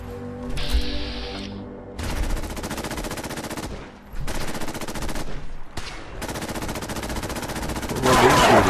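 Automatic gunfire in the video game Fallout 4 Far Harbor comes in several sustained bursts of rapid shots separated by brief pauses, loud and close, with a sharper crack at the end.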